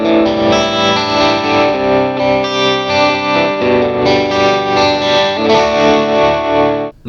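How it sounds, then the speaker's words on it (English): Electric guitar played through a Fractal Audio Axe-Fx II XL+ with tremolo, the loud sustained chords pulsing in a steady rapid wobble of volume before stopping abruptly; no voices. "I'm going to add a tremolo"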